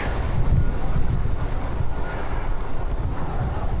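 Gusty outdoor wind buffets the microphone on a walk, a steady broadband roar with low rumbling swells and no clear voices throughout.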